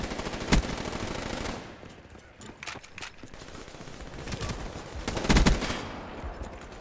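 HVK30 assault rifle in rapid-fire mode in Call of Duty: Black Ops III, with bursts of automatic gunfire and louder cracks over a steady game background, close and fairly loud, with no talk.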